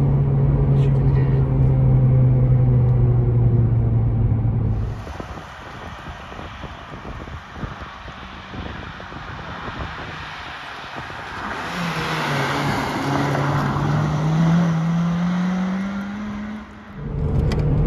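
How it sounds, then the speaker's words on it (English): A 2008 Honda Civic Type R engine revs hard while driving, its rising whine climbing in pitch at the start and again later, with wind rush and road noise in between. "It's effectively a race car engine, this."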